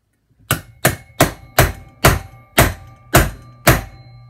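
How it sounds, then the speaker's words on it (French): Eight sharp hammer taps seat a part into a KLX motorcycle crankcase, each a crisp close metallic thunk with short ringing decay, spaced roughly half a second apart. "j'ai mis deux petits coups de marteau"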